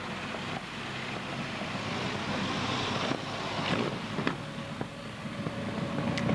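A Napier Bentley car engine runs in the background before its hill climb, a steady rumbling drone with broad noise that swells slightly toward the end.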